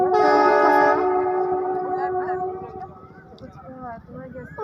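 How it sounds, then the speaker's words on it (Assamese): A train horn blares loudly with sustained layered tones, then fades as the train moves off, with voices murmuring nearby. "সিফালে ট্ৰেইন"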